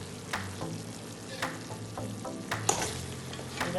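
Oxtail cooking in a pot gives off a steady close sizzle and bubbling, broken by a few brief scraping strokes as it is stirred.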